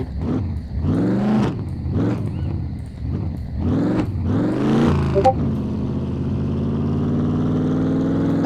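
Car engine in the zombie survival game SCUM, revving up and easing off in repeated bursts as the vehicle drives along, then settling into a steady drone, loud and close with no talk.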